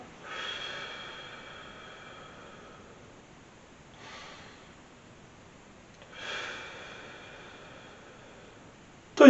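Slow, focused breathing during seated meditation, with three long airy breaths spaced several seconds apart, close and soft, each one rising and fading.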